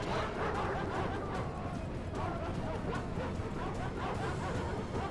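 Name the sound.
war dogs barking in video game Rome Remastered battle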